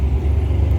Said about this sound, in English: And there's traffic going every which way